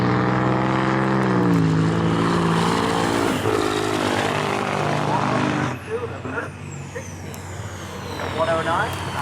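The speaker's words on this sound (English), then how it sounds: "Bobby McGee, the old Kenworth, doing a burnout across the start line and locking them up." An old Kenworth semi truck does a burnout across the start line at an outlaw semi drag race, its engine roaring loud and close with a steady droning pitch that shifts partway through, while a voice talks over it.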